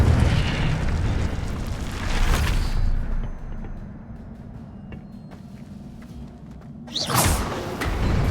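A whooshing, roaring fire spell cast in Hogwarts Legacy, with a loud burst at the start, another around two seconds, and a final flare near the end, separated by a quieter stretch of ambience.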